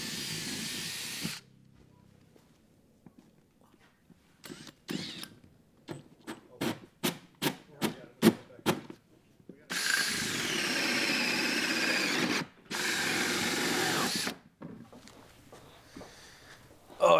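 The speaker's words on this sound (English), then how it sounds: "We'll pop a hole, grab the jigsaw, and make even a bigger hole in the housetop." Power tools, including a jigsaw, cut a hole through a boat's fiberglass and cedar housetop with paint, fairing compound and nails: a run of short, rapid buzzing bursts, then two long, loud stretches of harsh cutting noise separated by brief pauses.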